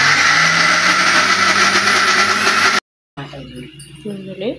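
A Sujata Dynamic mixer grinder with its 1.5 litre jar whirs in a loud, steady motor drone for nearly three seconds, then stops abruptly; a voice follows.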